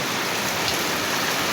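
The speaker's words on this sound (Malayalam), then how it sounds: "നല്ല മഴയാണ് കേട്ടോ." Heavy nighttime rain in Palakkad pours down in a dense, steady hiss, loud and unbroken with no voices.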